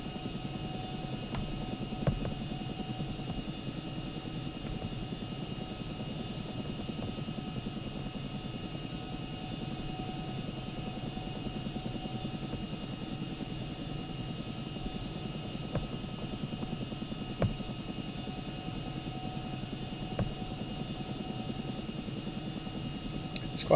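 Chinook twin-rotor helicopter in the ArmA video game spooling up, a steady low rotor and turbine drone with a faint whine, continuous and moderately loud throughout without talk.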